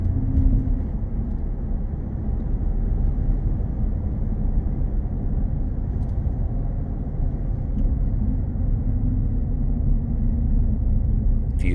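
Ford F-150 Lariat pickup with an aftermarket exhaust, a steady deep low rumble droning close and continuous without letting up, heard as if from inside the cab while driving.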